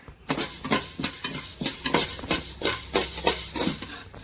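Ingredients for idi chammanthy frying in a pan, stirred with a utensil: close, loud scraping strokes repeat steadily about twice a second over a continuous sizzle, with no talking.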